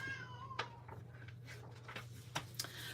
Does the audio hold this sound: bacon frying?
no